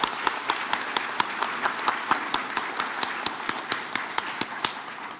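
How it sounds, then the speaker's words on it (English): Rhythmic group hand clapping at a bar association luncheon, sharp, evenly spaced claps of roughly five per second over a soft room murmur. "let's give Lee County Bar Association a hand clap for authenticity."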